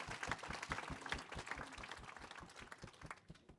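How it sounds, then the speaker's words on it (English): Audience at an awards ceremony breaking into applause for a long-serving transit employee, a dense burst of many hands clapping that fades slightly toward the end, heard from a distance. "Let's give a round of applause to Mr. Ventimiglia."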